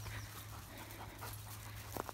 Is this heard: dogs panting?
yes